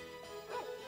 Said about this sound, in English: The cat barked.